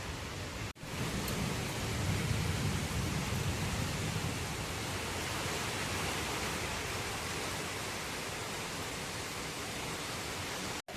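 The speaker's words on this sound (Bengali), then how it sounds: "এই যে দেখো কত জোরে জোরে বৃষ্টি আরম্ভ হয়ে গেছে।" Heavy rain pours steadily in the morning, a dense, continuous hiss with low rumble that stays loud and even throughout, with no voices over it.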